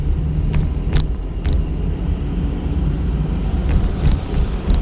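Car engine revving as the accelerator is pressed in congested street traffic, a steady low droning roar with a few sharp clicks and knocks over it.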